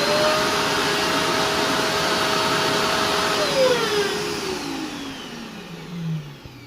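A Bissell Bark Bath pet grooming vacuum runs steadily with a whining tone that slides down in pitch toward the end, loud and close, with no talking.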